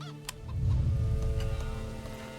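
Chickens cluck in the medieval village-building game Manor Lords, soft scattered clucks over a low, steady ambient rumble, with no talking.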